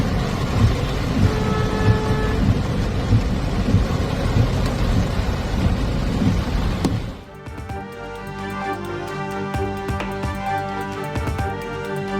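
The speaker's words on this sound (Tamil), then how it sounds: "மும்பையில் கல்யாண், பத்லாப்பூர் உள்ளிட்ட பல்வேறு பகுதிகளில் இரவில் கொட்டி தீர்த்த கனமழை." Steady broadband rush of heavy overnight rainfall in Mumbai with traffic noise mixed in, then an abrupt cut to a quieter, tonal background halfway through.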